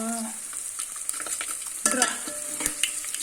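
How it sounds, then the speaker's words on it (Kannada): Spices crackle and sizzle in hot oil, with stirring scrapes and a few sharp pops close by, steady throughout. "ಒಗ್ಗರಣೆ ಹಾಕೋತಿದ್ದೀನಿ"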